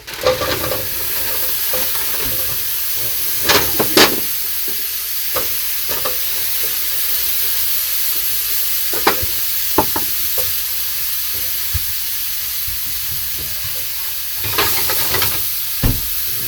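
Meatballs fry in oil in a pan, giving a steady close sizzle and hiss with occasional sharp knocks and scrapes as they are stirred and turned.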